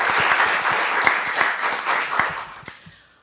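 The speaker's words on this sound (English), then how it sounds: "So just a round of applause." An audience at an academic seminar applauds with steady, dense clapping that fades out at the end, with no speech over it.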